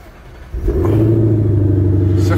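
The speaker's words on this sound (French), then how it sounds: "Regarde la voiture comme elle est énervée." A car engine revs hard, rising from a low idle into a loud, sustained roar that holds steady to the end.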